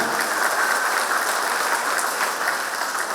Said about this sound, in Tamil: அன்போடு கைத்தட்டிய உங்களுக்கு நன்றி